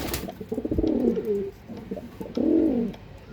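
Pigeons of prized breeds coo in two clear, throaty bursts, a shorter rolling call followed by a louder one near the end, close by with no talking.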